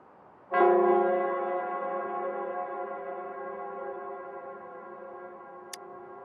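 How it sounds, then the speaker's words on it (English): A single deep bell strikes once in the Wuthering Waves video game, the Nell Squares bell, its rich tone ringing out loud and clear before slowly decaying over several seconds, with a faint tick near the end. "it's the Nell Squares bell."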